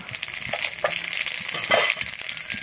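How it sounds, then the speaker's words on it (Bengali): Whole cumin and coriander seeds frying in hot oil give a steady close sizzle with light crackles and a few brief clinks. "আমার জিরে আর ধনেটা ভাজা হয়ে গেছে।"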